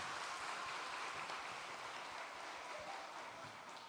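A church congregation applauds during a Sunday afternoon service in Uijeongbu, Korea, a steady wash of many hands clapping at moderate distance that carries evenly and eases slightly toward the end.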